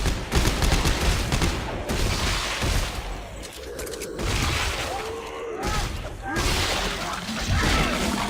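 A plasma pistol fires repeatedly in the sci-fi horror game Dead Space 3, sharp energy shots mixed with crashes and game noise while a person talks over it.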